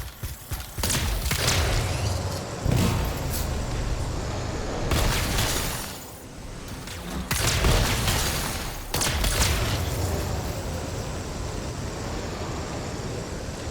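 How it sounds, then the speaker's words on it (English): Explosions in the video game Anthem: loud, broad blasts and rumbling bursts recur over several seconds, with a short lull in the middle before more booming continues. "It'll be a contained explosion."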